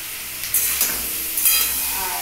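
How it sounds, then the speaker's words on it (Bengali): Cauliflower and potato frying with turmeric in a pan, a close bright sizzle with bursts of stirring and spattering, no talk. "লাল লাল করে ভাজতে হবে"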